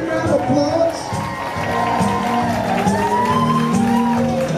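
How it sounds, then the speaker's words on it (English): Wedding guests at a reception cheer, whoop and clap for the bride's parents after they stand to take a bow, a lively crowd roar with shouts rising over scattered applause. "And let everybody give you a great big round of applause."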